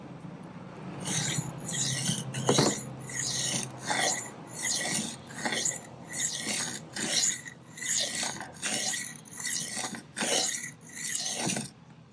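A knife sharpened freehand on a stone in quick passes, a rhythmic series of about a dozen close, gritty scraping strokes, each a short rasp separated by brief pauses.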